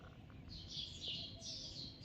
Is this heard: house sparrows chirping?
yes